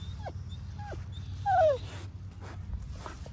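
A five-month-old puppy whines in thin, high, falling whimpers, a few short cries and then one longer, louder one, close by over a low background hum.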